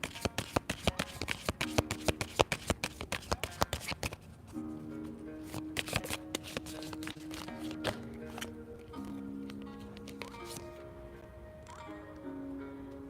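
Oracle cards from the Making Magic Oracle deck are shuffled by hand in a dense run of quick riffling flutters for about four seconds. Sparse soft card taps and slides follow, with a faint sustained musical tone behind them and no talking.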